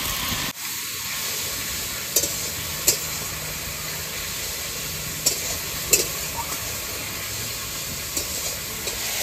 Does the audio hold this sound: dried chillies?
yes